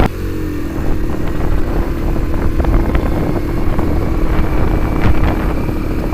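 An 80cc Honda CD80 motorcycle riding on a rural road, a loud steady engine drone with buffeting wind noise heard up close from the rider's position.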